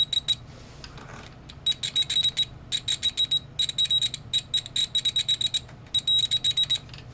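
Rapid, scratchy bursts of a high beep from the continuity tester of a Keysight U1231A multimeter, stuttering on and off in uneven clusters, close and alone with no talk.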